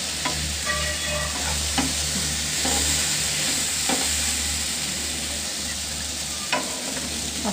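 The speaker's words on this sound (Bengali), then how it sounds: "অনবরত নাড়াচাড়া করে ভেজে নিতে হবে শুকি আর পুঁইশাকের পাতা" Dried fish and Malabar spinach leaves stir-fried in a pan, a constant close sizzle with repeated scraping strokes of the spatula throughout, no voices.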